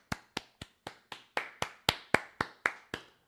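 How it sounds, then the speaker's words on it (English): Eleven sharp, evenly spaced hand claps in a room, growing slightly louder toward the middle, close and distinct with no talk, as people clap to welcome a new head coach. "Everybody clap."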